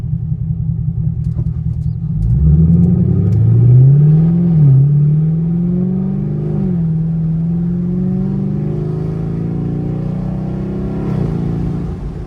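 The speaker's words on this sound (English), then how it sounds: "I'm gonna give y'all a light acceleration." A catless sixth-generation Chevrolet Camaro SS accelerates lightly from a loud, deep idle, its V8 rumble rising smoothly in pitch and holding a steady, throaty drone with no speech.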